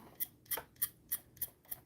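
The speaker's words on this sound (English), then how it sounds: "I think I need to sharpen my pencil a little bit." A graphite 2H pencil being turned in a sharpener, six short scraping rasps in a steady rhythm, close and fairly quiet with no talking.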